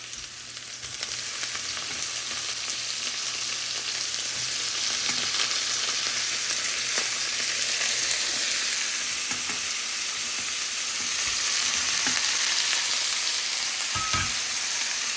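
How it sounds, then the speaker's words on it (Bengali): Shrimp and egg frying in plenty of hot oil for noodles, a loud, continuous sizzling hiss with splattering crackles and scattered stirring knocks throughout. "অনেক তেল ছিটাছিটি করছে, তাই আমি দূরের থেকে নাড়াচাড়া করছি"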